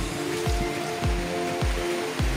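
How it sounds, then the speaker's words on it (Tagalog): Heavy rain hammers a corrugated metal roof on a house, a dense steady wash with regular, evenly spaced louder drips or thuds sounding about twice a second. "napakalakas po ng ulan"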